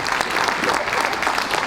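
Warm applause from a crowd at a presentation event, welcoming the deputy mayor of Bessines; dense, steady clapping throughout, moderately loud, with no speech over it.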